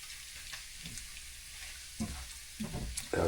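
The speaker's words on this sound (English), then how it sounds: "I'm going to let them hear the bacon sizzle." Bacon sizzles and crackles in a pan, a soft steady frying hiss with occasional louder stirring clatters near the end.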